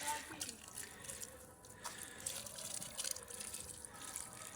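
Water runs steadily while a vegetable garden is watered, a faint, continuous splashing flow with a voice talking over it.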